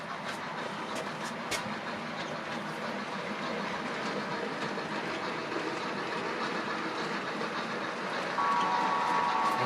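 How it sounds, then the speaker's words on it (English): Rapido HO scale Alco PA/PB model train running on a layout: a steady, close rolling rumble with light rhythmic clicking of wheels over track joints, continuous throughout with no talk. "First train up the line."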